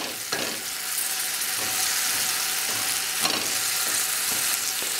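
Steady, crackling sizzle of blueberries frying in a hot pan, with occasional louder pops and spatters, continuous and close throughout.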